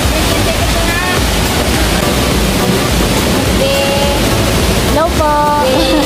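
The 98-meter-high Mantayupan Falls in Cebu pours down in a loud, constant broadband roar, close and unbroken, with voices talking faintly over it.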